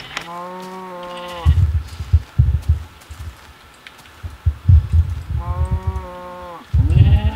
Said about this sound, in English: Alright, there's some sheep loving going on.